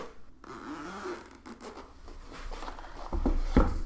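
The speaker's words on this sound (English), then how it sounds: "we're going to go ahead and unzip this" The zipper on a GoPro Hero 9 case is pulled open close by in a few short scratchy rasps, mixed with rustling and light handling bumps.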